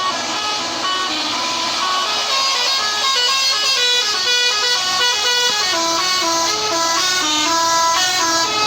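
A telolet air horn on a bus climbing the Bramban incline plays a loud, steady run of shifting musical tones that goes on without a break over the engine noise, close and alone with no talking.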